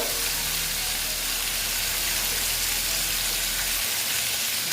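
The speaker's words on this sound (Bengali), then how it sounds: "দিয়ে ভালো মতন আমি ভেজে নেব" Tangra fish fry in a pan of hot oil, giving a dense, loud crackling sizzle that fills the whole stretch without pause or voices.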